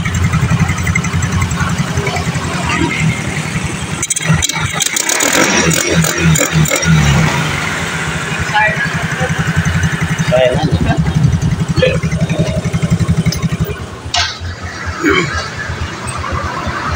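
A Yamaha Mio J scooter engine, converted from fuel injection to a carburetor, idles nearby with a steady low putter, while people talk over it and a brief clatter of handling noise sounds midway.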